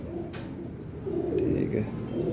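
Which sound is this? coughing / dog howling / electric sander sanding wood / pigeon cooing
pigeon cooing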